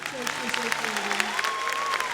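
An audience at a live Turkish music performance applauds with scattered, moderate claps beneath a person talking close to the microphone.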